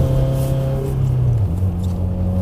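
Car engine on an ice racing track rising in pitch as it accelerates, a steady droning tone climbing then dipping near the end, fairly close and alone without talk.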